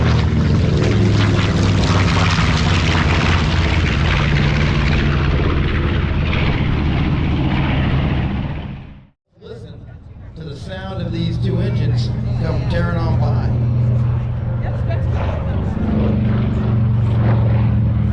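A propeller aircraft engine drones loudly and steadily, dropping out briefly midway before resuming, with a voice talking over the engine noise.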